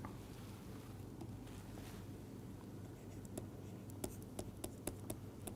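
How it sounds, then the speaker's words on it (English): Pen or chalk writing during an engineering lecture on connection design, soft scratching that builds into a series of sharper, distinct taps and strokes near the end, fairly faint and close, with no talk. "So, let us write that."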